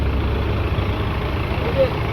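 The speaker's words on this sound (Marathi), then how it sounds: "आता गाड्यांची ट्रॅफिक बघू शकता" Vehicle traffic at a parking area along the Brahmagiri mountain pilgrimage circuit: a steady low rumble of idling and slowly moving engines, with continuous broadband road noise and no distinct pass-bys.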